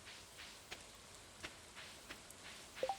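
Rain falls in Stardew Valley, a faint, steady patter with a few soft, scattered drop ticks and no voices.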